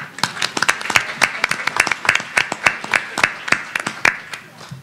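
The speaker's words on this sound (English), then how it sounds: "And please give yourselves a round of applause." Attendees of a caregiver summit panel discussion clap for themselves in sparse, distinct claps from a small group, uneven but fairly even-paced and close, with no speech over them.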